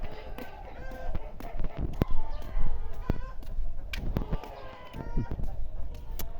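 Chickens cluck and squawk nearby amid scattered sharp knocks and movement noises, with people talking in the background.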